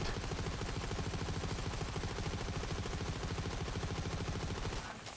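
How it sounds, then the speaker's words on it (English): Pestilence weapon firing in the video game Borderlands 3, a dense, rapid stream of loud gunfire bursts that continues without pause before stopping at the end, its explosion blending into the barrage. "the Pestilence, I think, has the explosion at the end"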